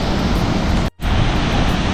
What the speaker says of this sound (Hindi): इस प्रपात का पानी गिरने की जो रफ्तार है उसका अवलोकन कराना चाहता हूँ।